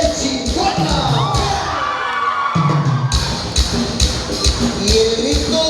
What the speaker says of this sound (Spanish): ¡Y el grito de las mujeres que mandan en su casa!